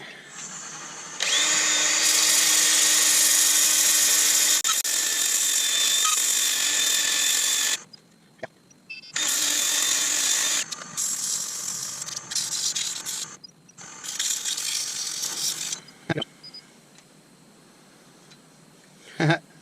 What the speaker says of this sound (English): let's give it a bit of a whiz down with some 120 sandpaper